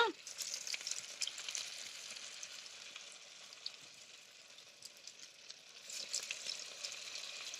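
Cassava herb vada sizzles and crackles in hot oil, a quiet, continuous frying hiss with scattered pops.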